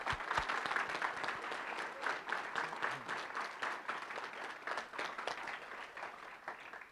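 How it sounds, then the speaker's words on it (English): A sustained round of applause at a wildlife commission meeting honoring award winners, many hands clapping steadily for several seconds, fairly quiet and distant in the room. "just another big round of applause for all of our award"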